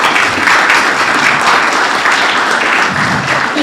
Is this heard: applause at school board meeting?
yes